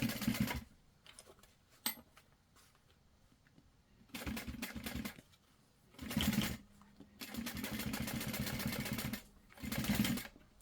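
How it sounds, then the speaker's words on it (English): A sewing machine stitches across a backpack handle in several close bursts, whirring runs of a second or two broken by quiet pauses, one longer stretch near the end, with no voices. "You could go ahead and just stitch across the handle again if you'd like."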